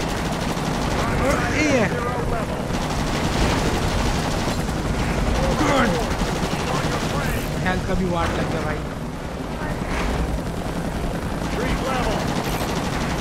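Rapid helicopter gunfire and rumbling explosions fill a noisy battle in the game Ultimate Spider-Man, with a steady helicopter drone underneath and someone talking over it.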